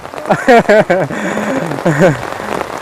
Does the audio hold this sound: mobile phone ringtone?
no